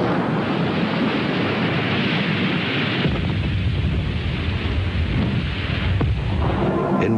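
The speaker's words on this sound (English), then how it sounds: "the bomb sinks, and the depth-activated fuse triggers the explosion" A World War II bomb detonates underwater after sinking toward a ship, its depth-activated fuse setting off a deep, rolling rumble that fills the whole stretch, a dull sustained roar with a short surge near the end.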